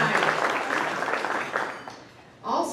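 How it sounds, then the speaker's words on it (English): Audience applause at a public meeting, a burst of clapping that swells and then fades out, followed by a brief pause before a voice begins speaking. "we want to give her a round of applause."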